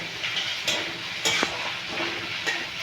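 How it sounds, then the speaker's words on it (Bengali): Onion frying lightly in a pan before taro leaves go in, giving a steady sizzle with a few sharp stirring scrapes and clinks of a utensil against the pan, close and without talk. "পেঁয়াজটা একটু ভাজা হোক হালকা হালকা ভাজা হলে"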